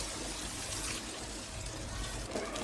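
A little water is poured into a simmering capsicum curry, making a soft, continuous trickle with a faint sizzling wash beneath it and a small clatter at the end.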